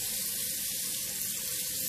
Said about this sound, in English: I'm gonna get it wet under the water.